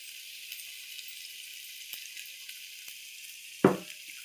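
Curry fries in a pan with a soft, steady sizzle and hiss. A short, louder splash or clatter comes near the end.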